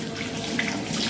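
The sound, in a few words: tap water running while washing beetroot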